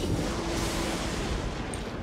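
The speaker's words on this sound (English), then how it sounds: "Let's do some barrage." A Barrage attack skill in Divinity: Original Sin 2 lands as a short, heavy rumbling burst of booming impacts with a broad, noisy low end. It is loud and continuous for about two seconds, with no voices over it.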